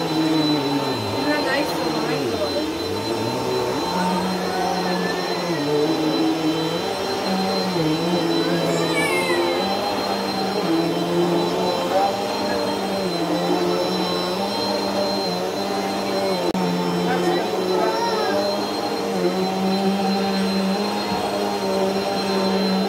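A Bissell Green Helix vacuum cleaner runs with a loud, steady whine and roar that holds for the whole stretch, with a voice faintly heard at times underneath.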